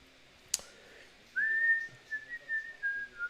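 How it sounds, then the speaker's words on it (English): A person whistles close into a microphone during a football match watch-along, a single sustained, slightly wavering tone that rises into a steady pitch and pulses in short phrases, preceded by one sharp click. "sorry for whistling into the microphone"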